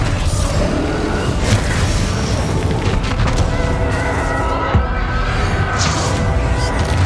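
Booming spell explosions from the Bombarda curse in the video game Hogwarts Legacy, a dense continuous barrage of blasts and crashes layered over a busy battle soundscape, loud throughout.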